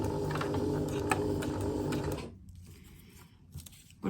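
Sewing machine stitching through a double layer of paper stars for a festive garland, a steady close mechanical whir for about two seconds before cutting out, leaving quieter clicks and handling.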